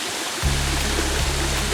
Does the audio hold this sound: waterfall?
yes